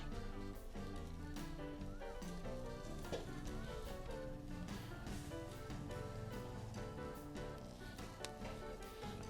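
Pork skewers grill over heat with a soft, steady sizzle and crackle, with occasional light scrapes and taps as the skewers are turned over, quiet and close.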